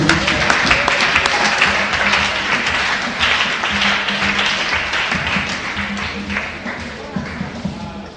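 A church congregation applauds continuously in a large hall, a dense steady wash of clapping with occasional sharper claps standing out, along with faint voices and music in the background.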